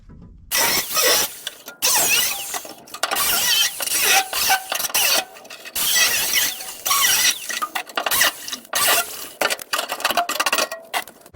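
Cutting tool grinding through rusty metal on a Valiant car subframe, harsh and close, in repeated bursts with short pauses between cuts.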